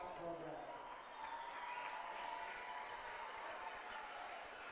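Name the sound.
crowd applause at high school football game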